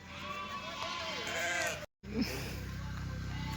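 A sheep bleats in a long wavering call, fairly close, over steady outdoor background noise. The sound cuts out briefly, then a short low sound follows.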